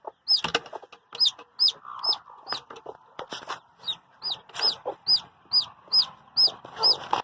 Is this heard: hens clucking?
yes